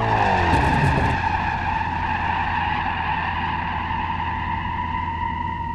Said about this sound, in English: All these actions make the car spin and make you lose the control of your car.